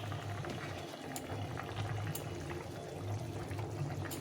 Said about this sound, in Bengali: ঝোলটা ভালোভাবে ফুটে গেছে